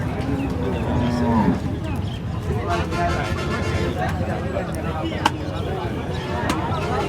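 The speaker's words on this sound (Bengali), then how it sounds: "মানিক ভাইয়ের গরুগুলো ব্যাপারীদের চোখে পড়েছে বেশ আসছে দামদার করছে" Cattle moo at a busy livestock market at Alamdanga, with one clear low moo early on amid constant crowd babble and voices of traders haggling nearby.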